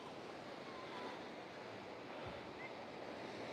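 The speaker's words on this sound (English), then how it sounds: "Look at these waves. Wow, whoosh. Now listen to that." Ocean waves crash and wash against rocks at Savage Cove (Callao Salvaje) in windy weather: a continuous loud roar and hiss of surf with wind rumble on the microphone, no voices.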